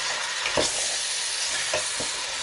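Chorizo, paprika powder and chickpeas for a Spanish pork stew sizzle steadily in a hot pan, with a few soft scraping stirs cutting through the close, continuous frying hiss.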